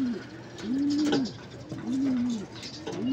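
Pigeons in a large cage give three or four soft, rounded coos in a slow repeating rhythm, close and clear over quiet background rustling.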